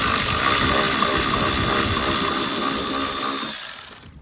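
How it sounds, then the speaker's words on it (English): A cordless side-angle impact driver fitted with a Phillips bit backs a screw out of a cowl panel on a Ram Promaster van during a cabin filter replacement, a steady loud whirring rattle running for several seconds before winding down. "you can use a side impact like this with the Phillips head on it"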